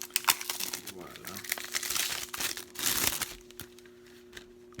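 Plastic wrapping on a Frozen 2 Blu-ray case crackles and crinkles in quick bursts as it is peeled off up close, with short pauses between tugs and a louder flurry near the end.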